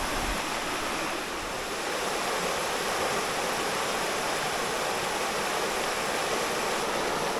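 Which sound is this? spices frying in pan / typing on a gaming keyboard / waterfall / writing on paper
waterfall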